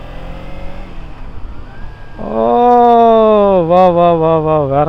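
A motorbike riding through city streets, starting as a low rumble under traffic noise, then swelling into a loud, close, steady engine drone with rising and dipping pitch as it accelerates and shifts.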